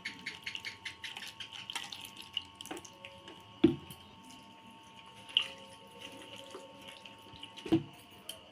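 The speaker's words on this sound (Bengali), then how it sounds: "আলুটাকে একটু ভালো করে ধুয়ে নেবে জল দিয়ে থালার মধ্যে দুবার তিনবার করে ধুয়ে নেব" Grated potato is rinsed in water on a plate in a home kitchen, with soft splashing, trickling and occasional drips plus a few sharper clinks, close and quiet throughout.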